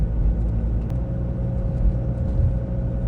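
A Renault 1.5 dCi diesel car on a test drive after a Delphi injector repair, heard as a steady, loud low engine and road rumble from inside the cabin, with no talking.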